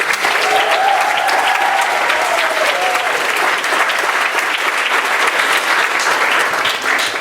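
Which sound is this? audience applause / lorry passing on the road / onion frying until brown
audience applause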